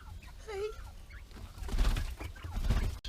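Chickens, guinea fowl and ducks at a backyard coop, a few high bird calls and clucks near the start, then a busy mix of squawks, flapping and rustling up close, with no talk.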